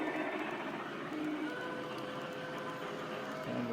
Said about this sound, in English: Here comes our wedding train.